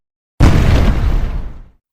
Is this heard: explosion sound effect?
yes